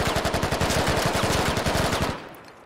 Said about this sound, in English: Koopa's taking some shots at him.